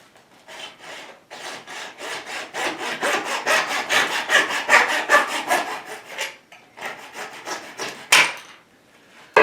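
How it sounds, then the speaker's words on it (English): Coping saw cutting through a wooden piece, with rapid rhythmic rasping strokes close by, a brief pause midway, then a few more strokes. "I cut it with the coping saw"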